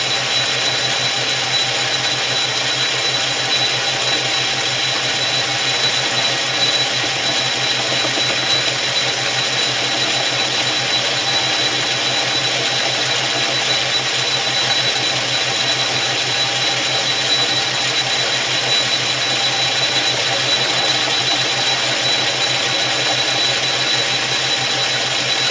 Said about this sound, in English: we're going to start on the chamfer on the radius router